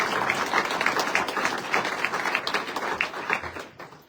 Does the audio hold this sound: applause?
yes